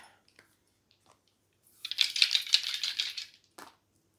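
Dice rattle briskly for about two seconds, a clattering burst of small hard objects tumbling close by, with a few faint clicks before and a final knock after.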